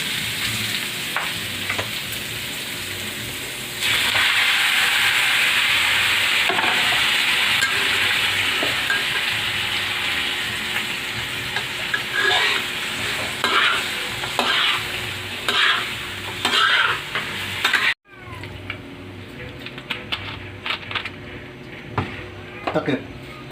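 Pork humba being stirred in a pan at home, a close ladle scraping and clinking over a steady sizzle that swells loudly partway through, with people talking intermittently.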